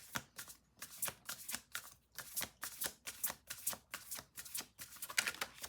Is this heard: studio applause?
no